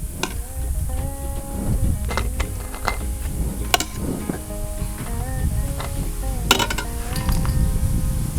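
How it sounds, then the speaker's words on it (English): Glass canning jars packed with potatoes shaken and tapped down, giving repeated bright clinks and knocks of glass at close range in an irregular rhythm, with no talk over them. "I'm shaking them down a little bit to make up that difference."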